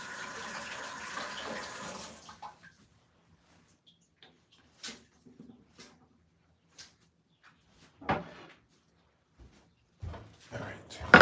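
Tap water runs steadily for about two seconds as greens get a quick rinse, then stops, leaving quiet handling knocks and a few spoken words.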